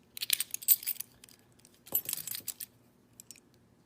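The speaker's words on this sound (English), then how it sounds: "Quick demo with the keys." A bunch of keys on a titanium carabiner key chain jingles in two short bouts of bright metallic clinking, close and fairly quiet, with a few faint taps afterward.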